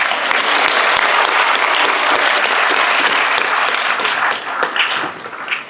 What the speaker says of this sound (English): Let's thank that poet with a big round of applause.